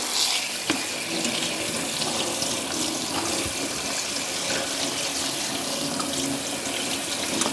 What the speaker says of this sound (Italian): E andiamo a raffreddare con l'acqua.